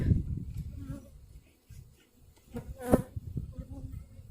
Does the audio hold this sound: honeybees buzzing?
yes